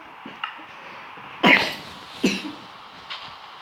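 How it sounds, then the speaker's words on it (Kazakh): Two sharp coughs ring out close by, about a second apart, amid quiet background noise and a few soft clicks. "Кешіріңіздер, қазір жөтеліп отыр."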